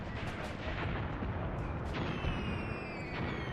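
Distant mortar fire in the World War II tactics game Graviteam Tactics, several low booming thumps over a constant rumbling battlefield bed, moderately loud and without talking.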